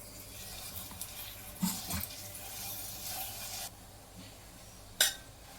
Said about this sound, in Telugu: ఇప్పుడు ఖర్జూర ఫ్రై చేసుకుందాం.